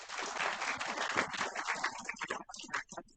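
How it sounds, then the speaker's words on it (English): Audience applause at a university freshers' orientation, welcoming the vice dean of student affairs: a dense spread of clapping that keeps going, then thins and breaks up near the end. "Please round of applause for her."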